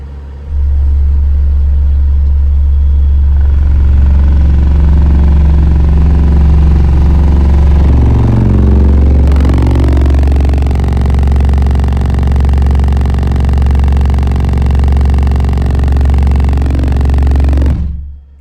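A car engine, tuned with the Rogue Hair Trick, held steady at 2000 RPM, with a loud, constant low rumble and harmonic drone that shifts slightly in tone partway through, no talking.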